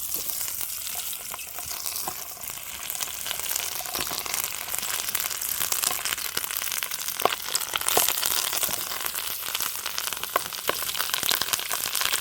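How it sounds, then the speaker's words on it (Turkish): Peppers fry over a wood fire with a dense, steady sizzle and crackle. Occasional sharper pops and spits come through near and moderately loud. "Odun ateşinde kızartma yaptığımızda daha güzel oluyor."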